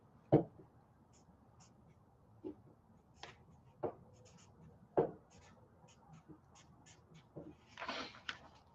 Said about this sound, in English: I want you to write something else that's absolutely vital to you.